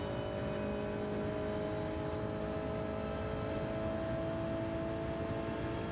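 A steady, droning racing car engine note from Group 4 cars in a sim racing game at the Nürburgring holds throughout with a constant mechanical hum, continuous and moderately loud, with no talking over it.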